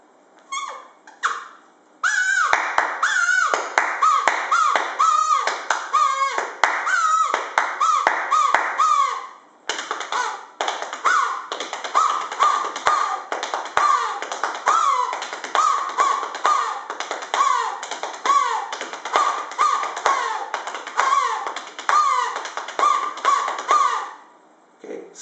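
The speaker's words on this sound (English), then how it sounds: "you can actually make a simple arrangement or a mix of kazoo and clap" A buzzing kazoo plays a rhythmic pattern together with hand claps, loud and close, in repeated short bursts that stop briefly partway through before going on, with no speech.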